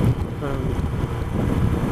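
Low, steady wind rumbles and buffets against the microphone on a damp, rainy day, a constant dull roar filling the background.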